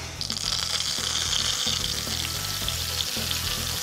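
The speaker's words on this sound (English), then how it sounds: "And then just fry them." Milk-soaked croutons fry in hot olive oil in a pan. A close, continuous sizzle and crackle runs throughout.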